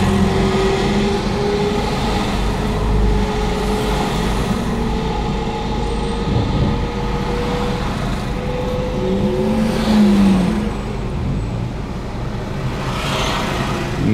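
Cars crawling in a slow summer traffic jam in Sevastopol, Crimea, with oncoming traffic passing; a steady, close engine and road rumble throughout with occasional louder vehicles going by.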